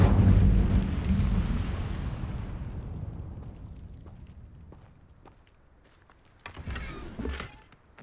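An Incendio fire spell cast in Hogwarts Legacy, a loud fiery burst that roars and slowly fades over several seconds, followed by a few sharp crackles and a smaller whooshing flare near the end.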